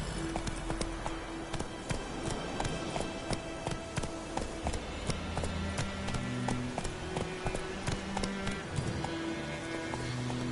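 A horse gallops in The Witcher 3, its hooves thudding in quick, even clip-clop beats over steady game music, with a brief louder burst partway through.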